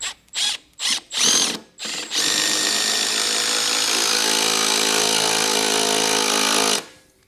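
A Milwaukee M12 cordless drill/driver drives a screw into pine wood, its motor whining loud and steady for several seconds after a few short opening bursts, then cutting off abruptly.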